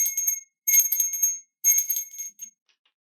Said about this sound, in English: I'm going to ring this bell here.